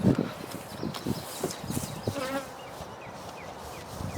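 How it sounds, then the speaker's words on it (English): Honey bees buzzing during a spring hive split, a steady close hum with scattered brief bursts, some handling noise and shuffling underneath, no talking. "I'll just take these bees, transfer them back to that hive."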